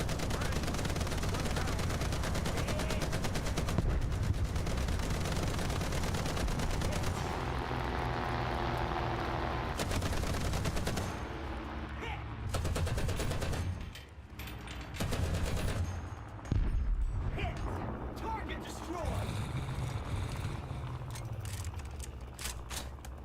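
Rapid bursts of vehicle-mounted machine gun fire from a War Thunder vehicle carrying six guns, loud and sustained, with pauses and engine rumble between volleys.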